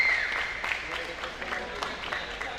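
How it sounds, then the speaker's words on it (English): Crowd at a women's hockey tournament game in an arena clapping for player Dolan, a light, scattered patter of applause heard at a distance under a commentator's voice. "Little clap goes up here for Dolan."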